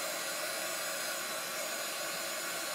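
Heat tool blowing continuously to dry chalk paste on a transfer for a travel journal, a steady loud whooshing hiss with no break, close and alone.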